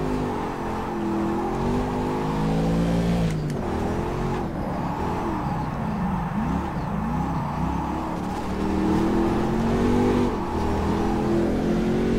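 A Panoz Roadster in the rFactor 2 racing game at Putnam Park, tires spinning as the simulated engine revs. A loud, continuous roar with wavering, sweeping tones rises and falls throughout.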